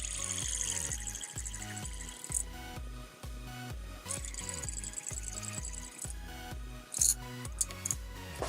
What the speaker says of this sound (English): sound of the balls clinking back and forth from each other and the frame of the spinner